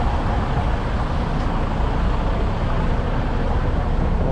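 Traffic on a street near Electric Park in Plainfield, Lockport, as a steady broadband roar of passing vehicles with no distinct individual horns or voices, loud and continuous throughout.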